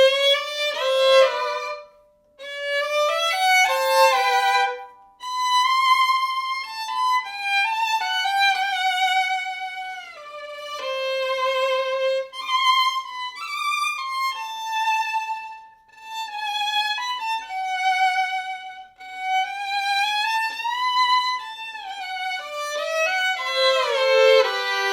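Solo violin plays a passage of a tango, a close, clear melody full of expressive glissando slides between notes, with no talking.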